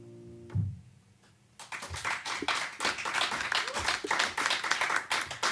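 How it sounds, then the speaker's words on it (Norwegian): Audience applause and clapping break out after a live music performance, starting faintly then swelling into sustained, dense clapping from a small crowd close by. "Stor applaus til gutta."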